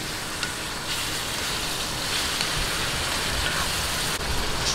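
Chili peppers hitting a hot pan and being stirred, giving a loud, steady, dense sizzle that carries on without a break and sounds close.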